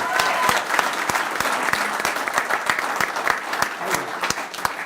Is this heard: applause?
yes